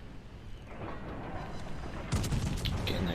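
Secondary battery guns of the battleship USS Massachusetts in World of Warships Legends, a burst of sharp firing reports and booms that breaks in suddenly near the end over a steady low rumble of sea and engine.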